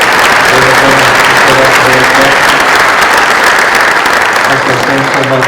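A middle school concert audience applauds loudly and steadily, a dense wash of clapping close by that fills the whole stretch, with a faint tonal hum underneath.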